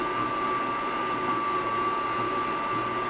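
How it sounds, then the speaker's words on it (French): An electric mixer beats shortcrust pastry dough, giving a steady whirring motor drone with a constant high whine, close and unbroken, with no voices. "on va battre pendant 5 à 7 minutes, jusqu'à temps d'obtenir une espèce de semoule"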